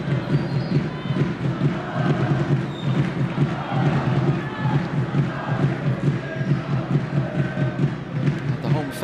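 A crowd of around 2,000 fans fills a stadium at a Women's Nations League football match between Turkiye and the Republic of Ireland, a steady rumbling roar and cheering throughout, with a commentator talking over it.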